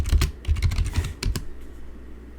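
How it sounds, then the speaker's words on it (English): Quick bursts of keystrokes on a computer keyboard as a search term is typed, close and clear, stopping after about a second and a half, followed by quiet. "Type in genetic code."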